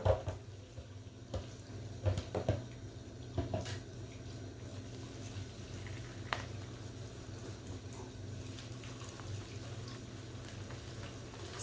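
Water running and splashing steadily while locs are rinsed to wash out dirt, a continuous low wash of flow with a few brief louder splashes near the start.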